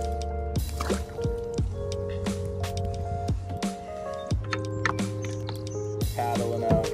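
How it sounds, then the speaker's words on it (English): A kayak paddles across a clear pond with soft repeated splashes and drips from the paddle strokes, and a steady electronic hum runs in the background throughout. "Paddling out, we're trying another spot of this pond."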